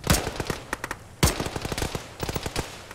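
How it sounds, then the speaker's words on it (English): Rapid bursts of gunfire in the military video game Arma, sharp loud shots in clustered volleys with brief pauses between, echoing as ranging fire. "That was a lot of ranging shots"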